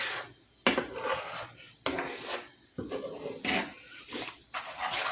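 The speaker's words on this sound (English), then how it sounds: "Now we're just going to kind of stir it around." Milk sausage gravy being stirred in a pan, with a spoon scraping and knocking against the metal in separate strokes about once a second over a soft background hiss, heard up close with no talking.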